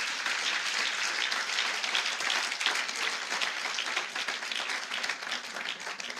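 A church congregation applauds during a Sunday service, many hands clapping in a dense, steady wash that holds at even volume for several seconds.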